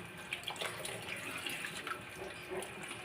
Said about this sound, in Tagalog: Hugasan mo yung saging.